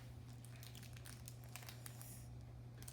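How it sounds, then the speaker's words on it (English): Thin plastic wrapping crinkles and rustles as it is pulled out of the box of a Gan 356 RS speed cube, in steady close bursts over a low background hum. "there's this little plastic we have to take out"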